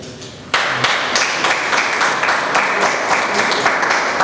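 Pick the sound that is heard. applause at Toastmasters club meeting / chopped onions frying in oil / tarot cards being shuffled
applause at Toastmasters club meeting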